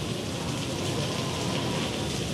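Steady rain falls on surfaces outdoors, a dense, continuous hiss of drops at moderate loudness with no voices.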